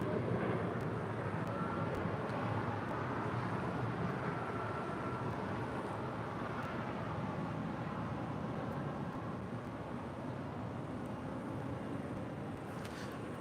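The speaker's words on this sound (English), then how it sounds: "that is Air Canada, flight 577 on the 737 MAX 8" An Air Canada Boeing 737 MAX 8 arrives at Los Angeles International Airport, and its distant jet engine noise forms a steady, fairly faint broadband rumble that holds throughout.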